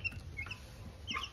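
Soft high chirps and cheeps from small chicks at a waterer, scattered and fairly faint, over a low background rumble.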